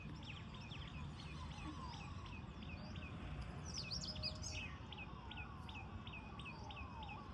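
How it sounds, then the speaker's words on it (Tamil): Birds chirp and call repeatedly in the morning outside a home in a village, with steady tweeting phrases over a constant background of insects and faint rumble. "இந்த பறவையோட சத்தம்,"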